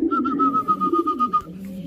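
A racing pigeon coos in a steady, close, rhythmic run of soft throaty notes lasting over a second, then trails off, with no talk over it.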